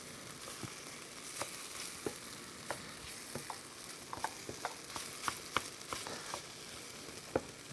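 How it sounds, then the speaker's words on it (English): Garlic and bay leaves sizzle gently with tomato paste in a pan, a steady soft frying hiss broken by scattered pops and crackles, close and fairly quiet. "And a couple bay leaves, get those toasted with the tomato paste"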